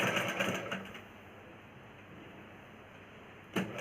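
A sewing machine stitching the hem of a blouse, a steady close whirring run that starts loud, settles into an even hum and ends with a brief burst.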